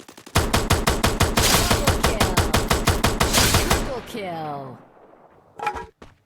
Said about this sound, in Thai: มีตัวยิงกันนะครับ